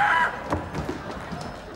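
Roosters crow loudly close by in a rural farmyard, one strong crow at the start fading out, followed by faint clucking and background noise.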